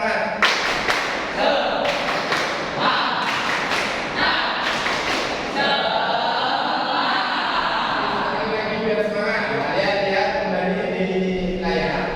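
A grade 7 class in a classroom claps the rhythmic tepuk semangat spirit clap in loud, patterned bursts of hand claps, followed by a teacher talking.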